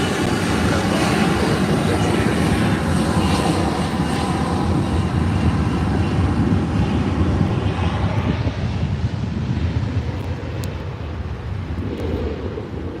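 A United Airlines airliner passing at LAX, its jet engine roar loud and sustained from the start, then easing slightly as it moves off over the last few seconds.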